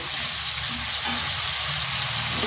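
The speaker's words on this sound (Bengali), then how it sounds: "মশলাটা আমার ভালোভাবে কষা হয়ে গেছে।" Spice paste with tomato frying in a pan for a Bengali vegetarian cabbage curry, a steady close sizzle with soft stirring scrapes and no voices.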